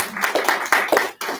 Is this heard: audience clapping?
yes